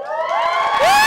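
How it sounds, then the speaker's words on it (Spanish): A crowd cheers and whoops at a 2024 high school graduation event, bright excited voices rising together and swelling louder toward the end of the short burst. "Fuerte el aplauso para Alejandra!"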